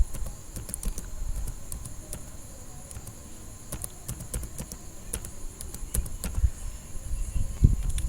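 Steady typing on a computer keyboard while entering paragraph text for an HTML lesson, a continuous run of close, crisp key clicks with brief pauses, alone without speech.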